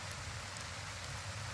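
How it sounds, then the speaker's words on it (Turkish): Steady rain pours in the Tavern Master tavern-management video game, a continuous even hiss with no gaps and no voices. "Oğlum bu oyunda ne kadar çok yağmur yağıyor."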